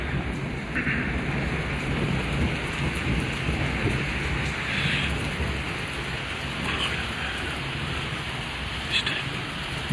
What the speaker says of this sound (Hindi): अब देखिए बिजली कड़क रही है